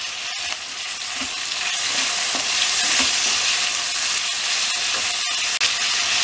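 Chopped tomatoes and cashews sauté in a hot pan, giving a loud, steady, close sizzle with a few soft stirring knocks and scrapes throughout, and no voices.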